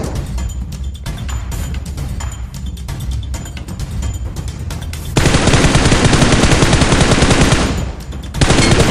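Gunfire in the PUBG Mobile video game: scattered distant shots first, then a loud, dense burst of rapid automatic fire that stops briefly and starts again, with no voices.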